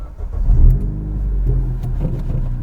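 Ford Fiesta with a fully straight-piped exhaust, its engine running loud and close with a deep rumble that swells around the start, then settles into a steady, throaty idle.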